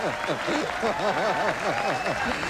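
Crowd applause at a 1994 professional bowling tournament after a spare, dense steady clapping mixed with a voice talking over it throughout.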